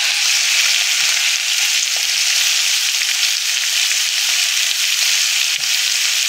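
Minced meat hits a hot pan in a keema samosa recipe and fries with a steady, loud, bright sizzle throughout, with small clinks and stirring knocks scattered underneath.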